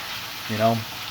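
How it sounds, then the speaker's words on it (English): Steady sizzling of vegetables sautéing in a hot pan, with a brief voice cutting in partway through. "I'm just sauteing the veggies here."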